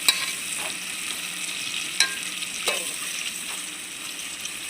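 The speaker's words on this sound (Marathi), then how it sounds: "आता आपण टमॅटो घालू. टमॅटो पण मस्त आपल्याला शिजवून घ्यायचा आहे." Tomatoes cook in hot oil in a pan, a steady close sizzle broken by a few sharp clinks of stirring, with no voices over it.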